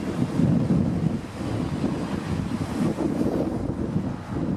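Wind buffeting the microphone with the rush of sea waves by the shore at Palm Jumeirah, near Atlantis on a man-made island, a steady loud roar with no clear breaks and no voices.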